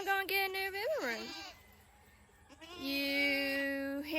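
Baby goats on a farm bleat in two drawn-out, wavering cries, the first rising and falling, the second held steady, close and fairly loud with a quieter gap between them.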